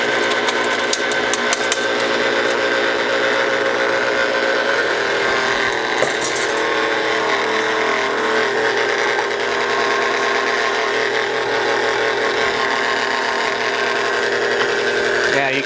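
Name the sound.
small food grinder grinding potatoes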